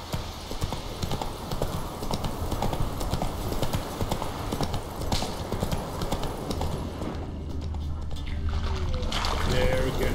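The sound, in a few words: horse Roach galloping in a video game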